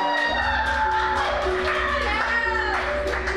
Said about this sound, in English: I want to hear one more huge round of applause for your newlyweds, Dylan and Ashley, Mr. and Mrs. Furlong.